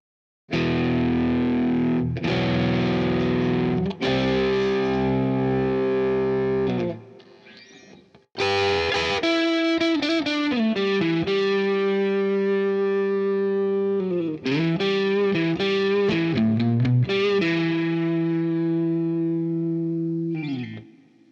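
Distorted electric guitar chords ring out through a Boss ES-8 pedalboard with long, washy reverb tails of about 3 seconds decay, sustaining and swelling, with one brief pause partway through.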